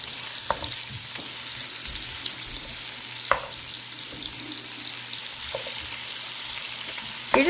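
Partly frozen sausage sizzles steadily in a pan while a utensil scrapes and breaks it up, with occasional sharp clacks against the pan over a constant low frying hiss.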